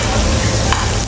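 Butter being stirred in a hot pan, a continuous close sizzle with scraping from the stirring.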